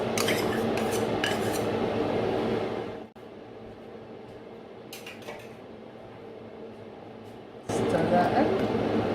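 A spoon scrapes and clinks against a pan while fat-free natural yogurt is stirred into a sweet potato curry, with a kitchen hum underneath and a person talking over the steady stirring.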